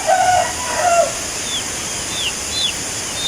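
A few short bird calls near the start, then faint distant rooster crowing notes repeating over a steady background hiss at a fishpond at dawn.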